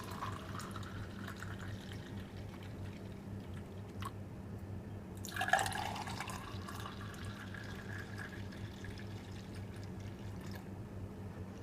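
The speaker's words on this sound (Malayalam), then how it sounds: "ഈ ജ്യൂസിനെ നമുക്ക് സെർവിങ് ഗ്ലാസ്സിലോട്ട് ഒഴിക്കാം" Sweet lime and carrot juice is poured into a serving glass in one brief, soft pour midway through an otherwise quiet stretch.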